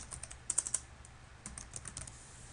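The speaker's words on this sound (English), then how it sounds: "let's type in my name here" Someone types a name on a computer keyboard, a faint run of light key clicks in two short bursts with a brief pause between them, close by and quiet over a low background hum.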